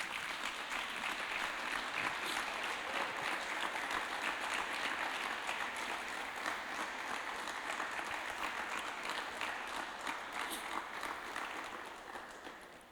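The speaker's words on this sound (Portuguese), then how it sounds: "Vamos dar uma salva de palmas para Jesus?" A church congregation at a Sunday service applauds together, a dense, sustained wash of clapping that holds steady for several seconds and then begins to taper off at the end.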